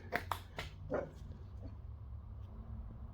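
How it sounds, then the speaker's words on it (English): A house dog barks at whatever might be out on the sidewalk, giving a quick burst of a few faint, distant barks at the start before fading into quiet room tone. "He will stand there all day barking at whatever could be on the sidewalk"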